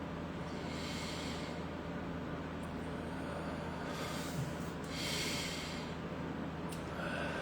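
Deep, slow breaths during a guided meditation, long airy inhales and exhales heard up close over steady background noise, with two stronger breaths standing out.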